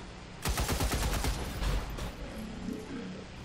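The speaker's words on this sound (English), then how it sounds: "Yep, we can shoot once more." Rapid burst of gunfire from XCOM 2 combat, a loud cluster of repeated shots in quick succession followed by a fading tail of lighter crackle and ambient game noise, with no voices.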